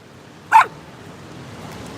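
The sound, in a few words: small dog barking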